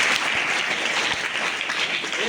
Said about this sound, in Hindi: ताली बजा दो आप।